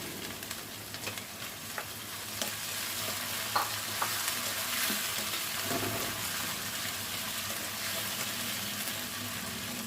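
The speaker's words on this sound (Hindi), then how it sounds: "और अब हम इसे जो है अच्छे से फ्राई करेंगे।" Tomato and ridge gourd curry frying in a pan, a continuous close sizzle with occasional stirring clacks throughout.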